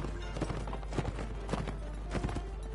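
Horse hooves clip-clop in a steady galloping rhythm inside the medieval combat game Mount & Blade: Warband, mid-distance thuds repeating under a low background hum.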